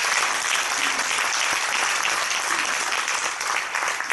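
A church congregation applauds to welcome a preacher at a denominational general assembly, a dense, steady roar of many hands clapping that stays loud from start to finish with no voices over it.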